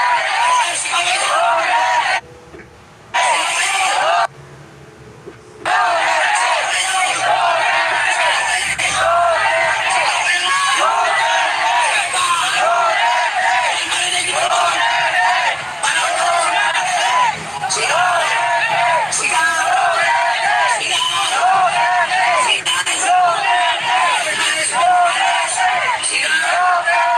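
A large crowd at a street rally on EDSA shouts and chants in loud, continuous massed yelling and cheering, with a couple of brief dips before the roar returns and a voice speaks through it.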